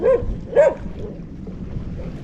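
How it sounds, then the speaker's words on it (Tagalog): A dog out on the water barks twice in quick succession, short sharp woofs close by, followed by a low wind-like background. "Tahol ka ng tahol dyan"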